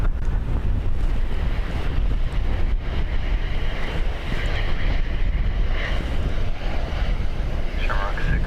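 Strong gusty wind roars steadily across the microphone at Dublin Airport, loud and close, a constant rushing buffet that masks everything else, with faint voices underneath.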